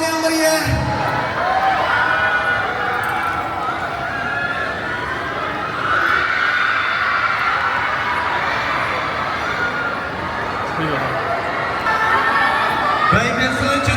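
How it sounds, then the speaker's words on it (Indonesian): Gala premiere audience for the series Bunga di Tepi Jurang clapping and cheering with whoops, a dense crowd roar sustained across the whole stretch, with an announcer's voice over it. "Beri tepuk tangan yang meriah."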